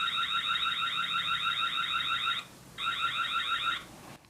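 A Tapo C615F security camera siren pulses rapidly in a warbling high tone, stops briefly, then resumes for about a second before cutting off.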